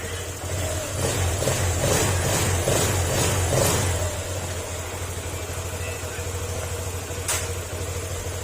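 A rebuilt Honda Click 125 motorcycle engine idles steadily nearby, rising slightly early on and then settling into a constant low hum with faint valve ticking.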